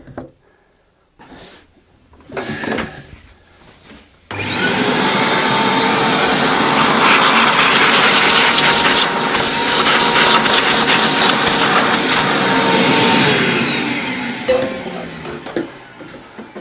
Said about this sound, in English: Sorry chat, if my vacuum was too loud.